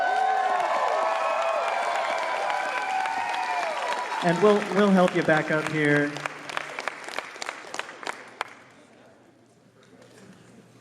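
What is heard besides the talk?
audience clapping for cosplay contest winner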